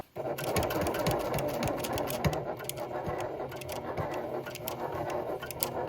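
A sewing machine stitching upcycled denim jeans fabric for a small fringed bag, running in a fast, continuous mechanical patter close by, with no talking.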